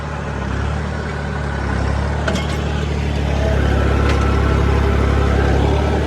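A tractor engine held at a steady 1500 RPM, in low third gear with four-wheel drive not yet engaged, drones continuously with a strong low throb and constant hum and no talk over it.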